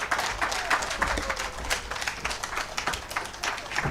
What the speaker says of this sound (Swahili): Naomba tusimame na tupige makofi mengi sana.